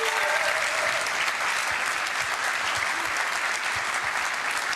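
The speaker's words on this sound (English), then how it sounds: "can we just have another round of applause for all of those 10 players nominated for this award?" An audience at a Canadian Premier League awards ceremony applauds continuously, a dense, even wash of clapping from a large crowd with no break.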